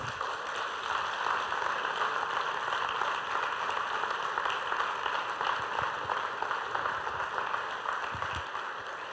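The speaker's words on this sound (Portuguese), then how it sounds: "Se essa palavra falou com você, aplaude e glorifique o Senhor" A church congregation claps after a sermon. The applause is steady and dense, fairly distant and soft, and continues without pause for about nine seconds.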